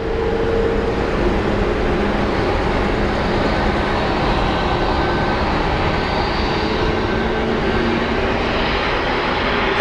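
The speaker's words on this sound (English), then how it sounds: "we do have the 777. He is right above the bridge. So the 777 is going to be coming for this side" Boeing 777 airliner on approach to Phoenix Sky Harbor airport, a loud, steady broadband jet roar that stays constant and close, with no voices.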